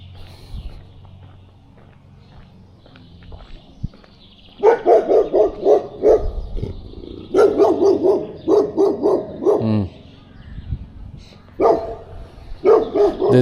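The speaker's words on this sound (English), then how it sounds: "This dog doesn't like me." A dog on a property in a Latvian town with wooden houses barks in repeated bursts, fairly close and loud, with short pauses between volleys, after a quieter stretch of footsteps and ambient noise.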